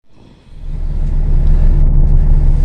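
Car pulling out of a garage, low engine rumble rising from quiet to a steady loud drone as it moves off, no talking.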